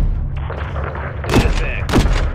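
Gunfire in Call of Duty Modern Warfare III: heavy booming shots and thuds over a low rumbling engine drone, with two loud sharp bursts in the second half.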